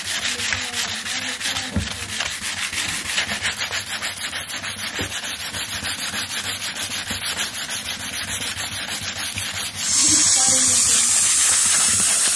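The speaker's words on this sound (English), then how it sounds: "It was just sanding it." Wood is sanded with a loud, continuous rasping scrub that pulses rhythmically throughout, shifting to a steadier, harsher hiss near the end, with a voice speaking faintly underneath.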